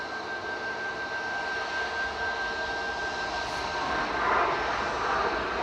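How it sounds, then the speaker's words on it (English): Steady jet roar of an airliner, a Boeing 737 Max 8 arriving from Berlin, touching down at Manchester Airport, heard at a distance as a constant wash that swells slightly toward the end, with no speech. "Right now, just touching down, coming in from Berlin"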